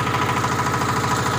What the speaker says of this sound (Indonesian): Terus untuk mesin dieselnya ini 33 pk.